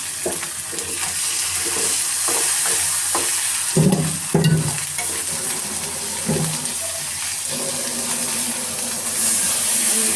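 Dried fish frying with a little garlic in a pan, a steady close sizzle broken by repeated scrapes and knocks of a spatula stirring, with a couple of louder clattering strokes midway.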